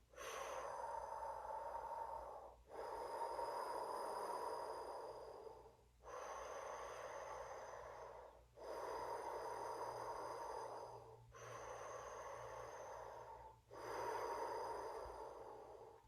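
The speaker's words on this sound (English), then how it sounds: "So we create an O with our mouth and we inhale and exhale through the mouth." Slow, steady breathing in and out through an O-shaped mouth during a Kundalini breath-work session. Six long, airy breaths follow one another evenly and up close, with short pauses between them and no talk.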